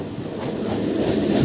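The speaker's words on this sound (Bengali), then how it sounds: "আর এই যে ট্রেন ঢুকে গেছে অলরেডি আছে" A train pulls into Guma station, its wheels and carriages giving a close, building rumble with a faint rhythmic clatter over the short moment.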